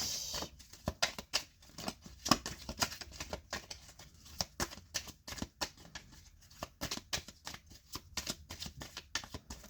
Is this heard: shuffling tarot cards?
yes